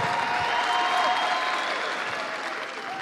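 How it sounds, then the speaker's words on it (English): Steady, sustained applause from a large crowd at a Kenya Kwanza manifesto launch at Kasarani, greeting the Deputy President, dense clapping holding at a constant level throughout and easing slightly toward the end. "Another round of applause for His Excellency, the Deputy President."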